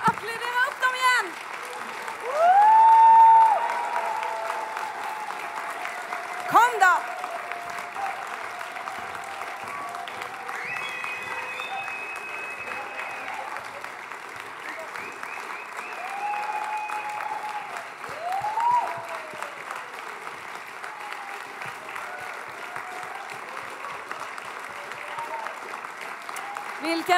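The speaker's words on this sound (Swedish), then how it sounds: "Ja, applådera upp dem igen." A festival audience applauds jazz performers at the New Sound Made finale, sustained crowd clapping across the whole stretch with a brief loud swell early on and a presenter talking over it.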